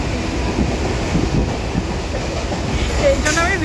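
An almost empty passenger train runs along the rails, its steady rumble and rhythmic clickety-clack heard from inside the carriage, with a faint squeal of wheels toward the end.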